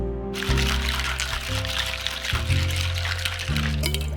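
Mint punch poured into a glass in the bar game Best Served Cold, a steady liquid trickle and splash over a looping low musical bed, close and continuous for about four seconds with no talking.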